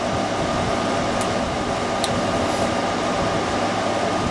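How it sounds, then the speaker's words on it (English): A loud, steady air conditioner roars continuously, a broad whooshing hum that fills the whole stretch with no pauses. "loud noise blasting right at us is the air conditioner that I forgot to turn off"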